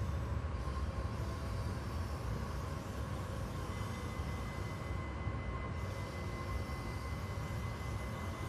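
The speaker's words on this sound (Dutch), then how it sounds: "Het is eigenlijk niks anders dan je trein maar een klein beetje uit laten lopen." NS SLT train coasting in Train Simulator 2014 on the Midden Holland route: a steady, continuous low rumble of wheels on rail with a faint rolling hiss, even and unbroken throughout, with no voices.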